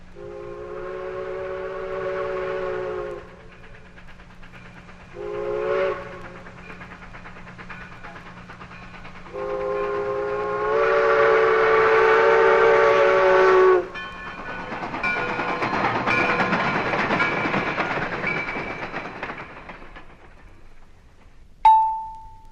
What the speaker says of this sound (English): recording the sound of a locomotive on a regular phonograph record